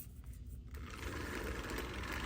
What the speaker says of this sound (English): It's just a little power whisk